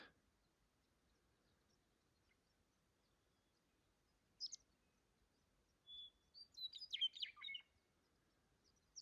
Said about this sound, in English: Capture the morning song of the western meadowlark.